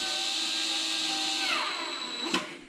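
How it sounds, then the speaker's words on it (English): A cordless screwdriver drives a screw into a table leg with a close, steady motor whine. It slows and winds down near the end, then a sharp click sounds. Nobody speaks. "a cordless screwdriver is going to make it a much faster job"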